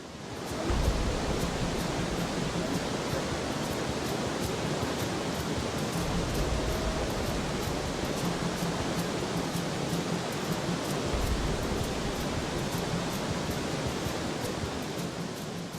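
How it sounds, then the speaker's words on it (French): Metche waterfall, the Chute de l'amitié on the Bafoussam–Bamenda road in western Cameroon, a continuous broad rushing roar of falling water, steady and fairly soft, with no voices. "Derrière les bruits de cette chute de l'amitié se cache une histoire jusqu'ici non éclairée."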